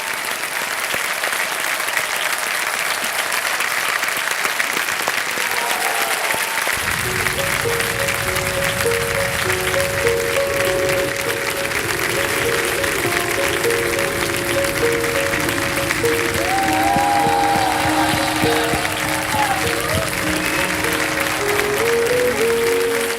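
Sustained, dense studio audience applause on the Indian TV quiz show Kaun Banega Crorepati, steady and loud, joined partway through by celebratory music and tones.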